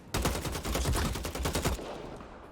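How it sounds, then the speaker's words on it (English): Gunfire in the video game Bloodhunt rattles out as a dense, loud burst of rapid automatic shots lasting under two seconds, then fades away. "Seems like a lot of shots over there"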